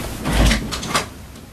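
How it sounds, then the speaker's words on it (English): A studio door swings open with a low thump and a brief rattle, followed by a fainter knock, with cats waiting outside; no voices. "now the door's open"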